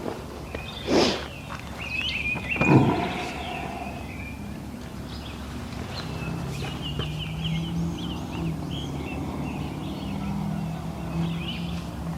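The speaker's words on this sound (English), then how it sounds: "Sit here and listen to the birds" Birds call outdoors: two loud gobbling calls ring out near the start, followed by softer chirps and calls scattered over a quiet background.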